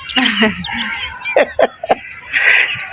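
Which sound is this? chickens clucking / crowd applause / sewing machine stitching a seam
chickens clucking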